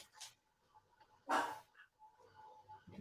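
A dog barks briefly at moderate distance in a quiet setting, one short burst standing out against low background noise.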